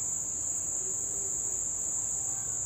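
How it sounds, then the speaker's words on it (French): Crickets chirping in a dense, continuous high-pitched trill that holds steady and fairly loud throughout, with a faint low background rumble and no voices. "Messieurs les grillons, arrêtez de griller, c'est quoi? Mais pourquoi vous grillez autant?"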